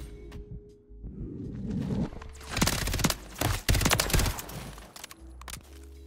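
Gunshots in a first-person shooter played with a tiny SMG, a few sharp loud cracks clustered in the middle amid a busy mix of game sounds, no talk.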